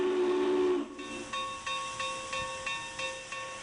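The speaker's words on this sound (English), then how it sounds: "the 4664 articulated Challenger is being fired up to head an 18-car excursion train to Laramie" Union Pacific Challenger 4664, a huge articulated steam locomotive, being fired up in Cheyenne, Wyoming: a loud steam whistle blast gives way to steady hissing steam with a rhythmic series of sharp chuffs or clanks.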